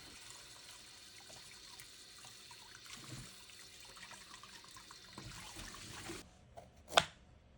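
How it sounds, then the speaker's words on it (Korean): Sweet potatoes being washed in water at a kitchen sink, a soft continuous running-tap wash with faint splashes and handling noises, ending in a sharper splash near the end. "먼저 고구마를 깨끗이 물에 씻어주세요."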